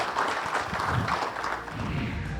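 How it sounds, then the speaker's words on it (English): An audience at a panel-style event claps in a steady, moderately loud wash of applause that lasts a couple of seconds. "A round of applause, ladies and gentlemen"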